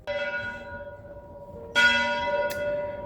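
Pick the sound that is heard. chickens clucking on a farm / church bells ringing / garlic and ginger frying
church bells ringing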